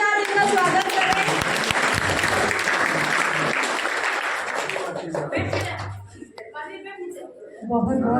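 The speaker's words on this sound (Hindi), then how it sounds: "सभी तालियों के साथ इनका स्वागत करें।" An audience at an inauguration event for a newly built building bursts into loud clapping. The applause then thins out, and a speaker begins talking over the last scattered claps.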